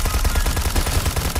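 Rapid, unbroken Gatling gun fire pours into a horde of zombies in the video game Apocalypse Party, a dense, loud, machine-like rattle of shots running steadily throughout with no speech.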